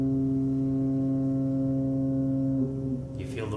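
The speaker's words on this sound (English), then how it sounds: "It's a ship horn, right?" A ship horn gives one long, deep, steady blast with strong low tones, loud and sustained. It cuts off near the end, leaving a noisy background with faint clatter.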